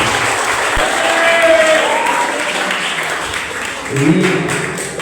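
Audience applause from students at a school civic education session, a continuous wash of clapping from a hall crowd with voices mixed in beneath it.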